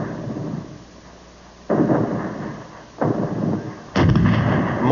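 Heavy artillery guns fire three booming, rolling blasts about a second apart, each one loud and reverberant, with a low rumble lingering between shots.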